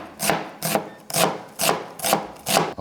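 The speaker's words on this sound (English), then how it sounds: "you want to do a very fine dice on your onions" A knife dices onions finely on a cutting board in six evenly spaced, close, solid chops with a scraping edge, steady rhythm and no voices.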